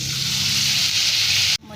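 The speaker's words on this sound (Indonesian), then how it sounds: "Lanjut kita goreng di minyak panas" Anchovy and peanut rempeyek crackers frying in hot oil give a loud, steady sizzle with no talk, then cut off abruptly near the end.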